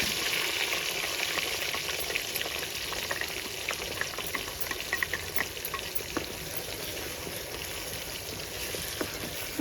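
Green chili and mint paste fries in a pan with whole garam masala for a paneer masala curry, giving a steady, close sizzle that runs the whole time with small crackles and pops and no talking.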